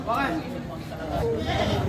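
Goats bleat repeatedly nearby at a livestock market in Padre Garcia, Batangas, their wavering cries mixed with people talking in the background.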